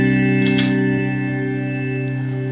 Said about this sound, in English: whenever I turned it off, the reverb tail itself actually kept going